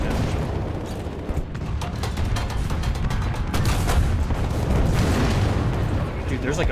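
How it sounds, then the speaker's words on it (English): Battle noise from War Thunder: a dense, continuous wash of gunfire and explosions, loud and sustained throughout with frequent sharp cracks layered over rumbling booms. "Dude, there's like a firefight happening."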